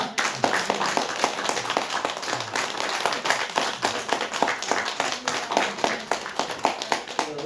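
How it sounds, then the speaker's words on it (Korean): A church congregation at a Sunday service claps to welcome a returning member, a brisk, fairly even run of hand claps from many people that keeps going without a break. "잠깐 일어나시면은 박수로서 환영하겠습니다"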